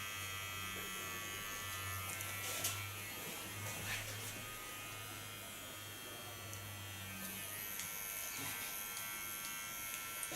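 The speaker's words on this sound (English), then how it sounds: "Take my smallest Kiona clipper. Get rid of the facial hairs." The smallest Kiona hair clipper buzzes quietly and steadily while trimming fine facial hair during a salon haircut, its hum wavering slightly as it moves across the skin.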